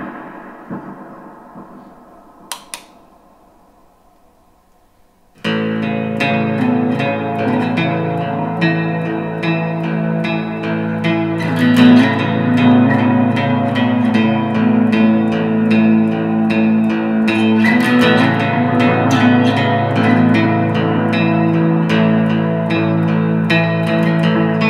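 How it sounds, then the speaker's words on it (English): Jerry Jones Neptune baritone shorthorn electric guitar played through a Serenity Reverb with ghost effect and a Hungry Robot The Wash pedal, sustained chords swelling into a dense, washy reverberant tail after a few quiet picked notes, loud and continuous with no talking. "Let's hear it with Serenity Reverb with the ghost effect on, and we have the Hungry Robot The Wash with the wash feature on."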